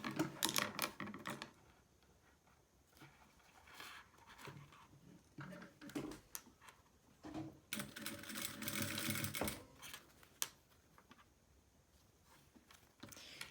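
A sewing machine stitches along the edge of a bag strap in uneven bursts of rapid mechanical chatter, broken by pauses and light handling noises.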